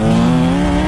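A supercharged Dodge Viper roars loud and close for a moment, its engine tone a steady throaty drone with a slight rise in pitch.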